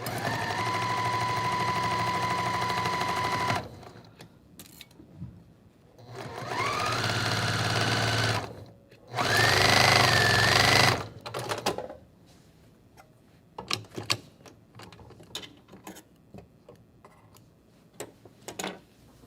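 A sewing machine stitches a quilt block seam in two long steady runs and a shorter loud burst, with pauses between; quieter clicks and handling noises follow near the end.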